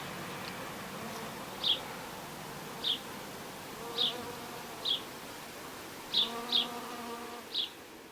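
Wasps buzzing close by, a steady insect drone broken by several sharp, brief high chirps spaced irregularly.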